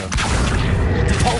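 Accio pulling spell cast in the video game Hogwarts Legacy, a dense, continuous rumbling whoosh with low booming and mechanical texture, loud and sustained throughout.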